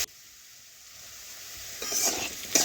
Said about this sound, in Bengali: দুই থেকে তিন মিনিট মতো নাড়াচাড়া করে লাল লাল করে আলুগুলো ভেজে নিচ্ছি